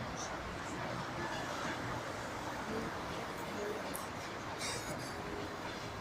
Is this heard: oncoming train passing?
yes